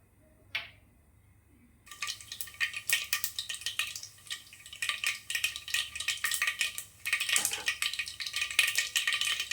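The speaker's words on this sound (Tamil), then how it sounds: "கடுகு, உளுத்தம் பருப்பு சேர்த்துக்கலாம்." Mustard seeds and urad dal crackling in hot oil inside a pressure cooker for mutton curry, a dense run of close, sharp pops and spatters that starts abruptly after a quiet moment and keeps up steadily.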